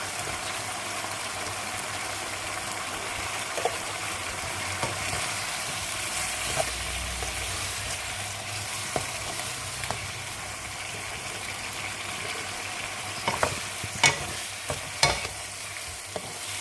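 Fried potatoes and large Holland onions stirred into a simmering chicken and soy sauce dish, a steady sizzle and bubbling with occasional scraping clicks of a spatula against the pan.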